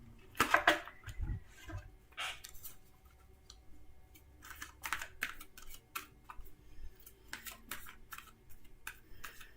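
Crisp, rapid flicking and riffling of tarot cards being shuffled, in short bursts with small taps between, close up and fairly quiet, no talking.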